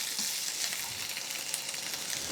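Steady, close sizzle of chopped vegetables, red pumpkin and potato, frying in ghee in a pan. The hiss is continuous and fairly loud, with faint stirring and no voices.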